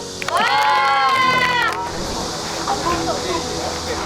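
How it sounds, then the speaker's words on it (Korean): Applause and crowd noise at a corporate partnership signing ceremony with a football team, preceded by a high, wavering whistle-like cheer; dense, steady clapping then fills the room at a fairly loud level. "박수"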